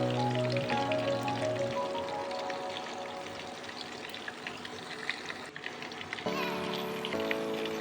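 Meat and vegetables frying in a pan with a steady broadband sizzle throughout, strongest toward the end, over a background of sustained musical tones.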